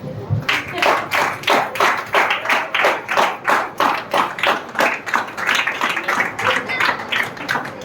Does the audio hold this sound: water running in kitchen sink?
no